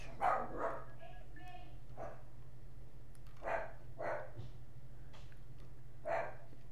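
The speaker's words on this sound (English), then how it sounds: "Excuse the dog in the background." A dog barks in the background during an online Yu-Gi-Oh duel commentary, with several short barks spaced through the clip over a steady low hum and quieter room noise.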